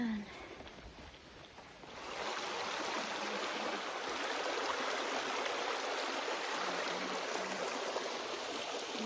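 Steady broadband rush of the Jessup River flowing past a campsite, starting softer and swelling after the first two seconds into a continuous, fairly close wash of water.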